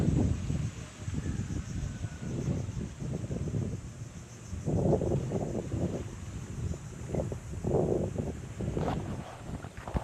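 Steady wind gusts at a peaceful seaside spot in Romblon, Philippines, buffeting the microphone with continuous low rumbling whooshes that swell and ease.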